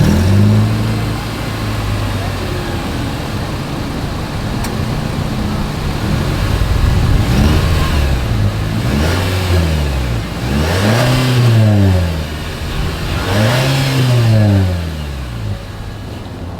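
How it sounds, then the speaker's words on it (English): A 2025 Nissan Sentra with a single exhaust idles, then gives three sharp, close revs that rise and fall at an even pace, with no talking. "As always, here is that exhaust clip."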